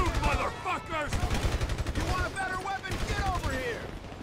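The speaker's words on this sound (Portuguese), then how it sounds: "Estou a disparar meio à toa porque eu não estava a ver." Rapid bursts of gunfire in GTA 5, loud and dense, with a voice talking over the shots throughout.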